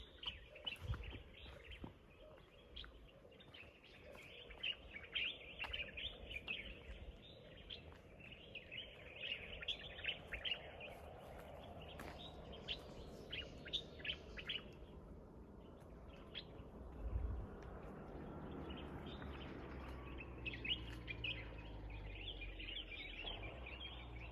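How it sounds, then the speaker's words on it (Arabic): Birds chirp and sing steadily around a rural guesthouse in the countryside near Ouezzane, with bright overlapping calls running throughout over a low background rumble. "خليكم تسمعوا الاصوات الطيور."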